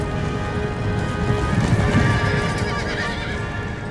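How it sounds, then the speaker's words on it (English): Cavalry units charge in the strategy game Empire: Total War, a thick rumble of galloping hooves with horses neighing and whinnying over it, sustained at a steady loud level with no voices. "He's sending a provincial cavalry unit against my cavalry units"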